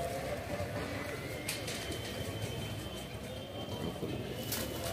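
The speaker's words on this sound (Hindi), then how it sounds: "ये थोड़ा सुरमे टाइप में कबूतर है, गर्दन भी सुरमई है" Male Madrasi (Chennai) pigeons coo in low repeated murmurs under a constant background hum, with a couple of brief sharper sounds and faint voices nearby.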